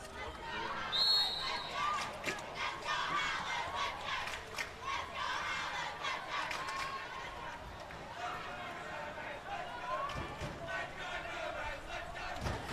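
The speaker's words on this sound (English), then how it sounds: "you can hear the cheer squad in the background there" Faint cheer squad chanting for the Mermaids at a water polo gold medal match, distant rhythmic shouts and crowd noise echoing around the pool under a commentator's voice.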